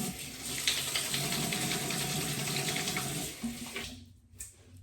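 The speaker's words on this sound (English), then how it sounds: "I'm gonna wash my hands before we get into it." Tap water runs steadily into a sink during handwashing, a continuous close splashing rush that cuts off near the end, leaving a brief quieter trickle.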